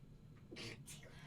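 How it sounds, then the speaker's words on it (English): One quick, faint sneeze, a short breathy burst followed by a second softer puff, during a quiet indoor podcast conversation. "Sorry, I was sneezing."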